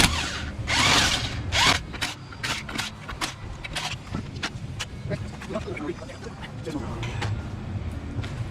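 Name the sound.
ratchet turning lug nuts on a Cadillac SRX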